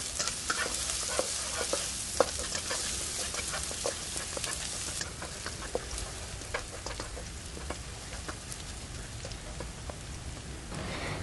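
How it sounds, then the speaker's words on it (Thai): Crushed garlic fries in a little hot oil in a wok, a dense, continuous crackling sizzle like heavy rain, with scattered spatters and spoon stirs, close and steady throughout. "เริ่มจากการตั้งกระทะใส่น้ำมันลงไปเล็กน้อยค่ะ พอน้ำมันเริ่มร้อนเราใส่กระเทียมที่ตำไว้ลงไปเจียวค่ะ"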